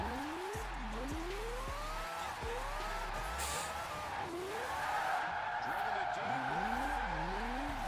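A car engine revs and whines up and down with squealing skids, continuous racing sounds with a person talking over them.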